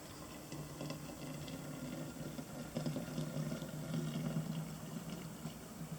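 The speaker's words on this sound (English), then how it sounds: "we're just going to go ahead and pour this in" Homemade almond milk pours into a mason jar in a quiet off-grid kitchen, making a soft continuous trickle that swells slightly midway.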